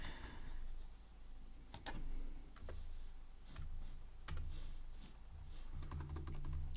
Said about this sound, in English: let's type user, and let's type print line, first name, let's press Ctrl D